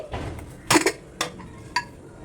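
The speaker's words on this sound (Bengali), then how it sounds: "এবার আমি প্রেসার কুকারের ঢাকনা খুলে নিচ্ছি" Pressure cooker lid being opened after cooking moong and masoor dal, a few sharp metallic clanks and scrapes of the metal lid against the pot, close and fairly loud, with no talking.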